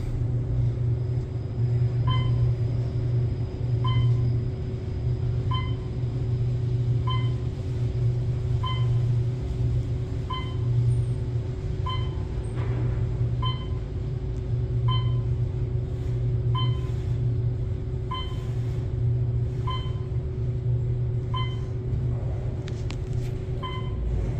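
Otis Elevonic 411 traction elevator riding at the Ritz-Carlton, a steady low machine rumble and hum filling the car throughout, with faint evenly spaced chime-like ticks repeating about every second.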